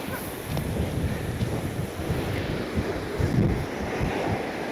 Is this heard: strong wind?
yes